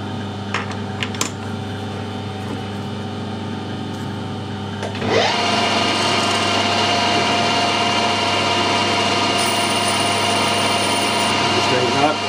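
A metal lathe puts a small chamfer on the edge of an aluminium part: a low motor hum with tonal whine, then a sudden louder rise as cutting begins, sustained steadily to the end.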